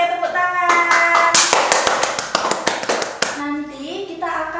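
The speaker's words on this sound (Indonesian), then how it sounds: "Oke, tepuk tangan." Sixth-grade elementary class clapping hands together in a classroom, rhythmic group claps in quick bursts with children's voices and a teacher's speech around them.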